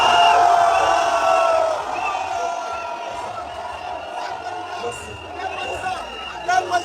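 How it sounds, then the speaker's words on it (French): A large crowd in Yopougon, Côte d'Ivoire cheers and shouts in a loud, mixed roar after a political speech, with a whistle-like tone early on and excited voices rising and falling throughout. "Applaudissements"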